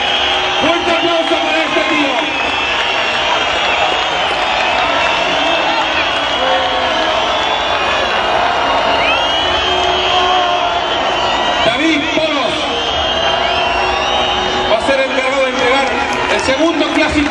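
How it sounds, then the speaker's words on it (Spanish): A crowd at a race prize-giving ceremony in Spain cheers and claps for a third-place finisher, a loud, continuous roar of clapping, whoops and chatter with an announcer's amplified voice over it. "Fuerte aplauso."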